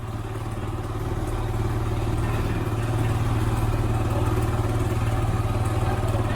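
Motorbikes and tricycles on a road on Olango Island in the Philippines, a steady close engine drone with a continuous low rumble throughout, with no break.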